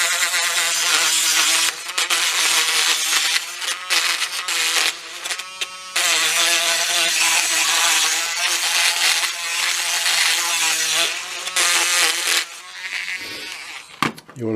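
A Dremel-type rotary tool whines at high speed while smoothing the edges of cut copper, a close, buzzing grind with brief dips and pauses as it bears on the metal.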